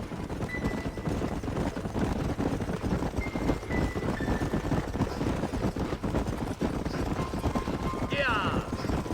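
Horses trotting with steady clip-clop hoofbeats across open terrain in the Red Dead Redemption video game, continuous and fairly close, mixed with wind and game ambience.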